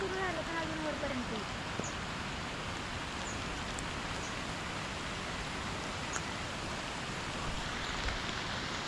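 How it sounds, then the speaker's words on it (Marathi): Monsoon rain pours steadily over flooded ground near Ratnagiri in the Konkan, a dense, even hiss that continues unbroken, with a brief voice-like sound near the start. "पाऊस सुरू झाला"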